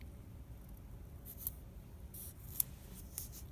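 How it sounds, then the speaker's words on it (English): Scissors snipping around puffy tape stickers, a few soft separate cuts with crisp clicks, faint and close in a quiet room. "And then cutting around the edges."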